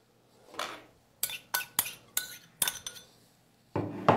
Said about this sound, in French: Remuez bien le tout.